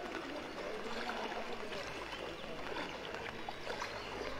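Floodwater rushes steadily around a mosque in a flooded residential town neighbourhood during Eid, a continuous, broad watery roar with no clear pauses and no speech.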